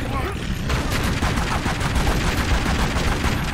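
Rapid loud gunfire rattles in a continuous burst at a jaguar in Tomb Raider: Legend, close and sustained, with a brief voice heard near the start.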